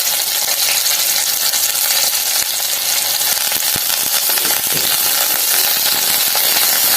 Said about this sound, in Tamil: பூண்டு வெங்காயமும் ஓரளவுக்கு வதங்கிடுச்சு இப்போ இஞ்சியை போட்டுடலாம்